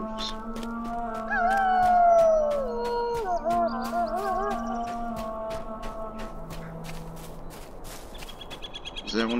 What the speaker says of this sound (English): See wolves.